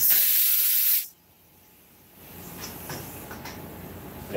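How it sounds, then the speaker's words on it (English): Glue sprayed from a spray can, a loud steady hiss for about a second that cuts off abruptly, followed by quiet room sound with faint clicks and handling noise. "Yeah, so I'll spray one,"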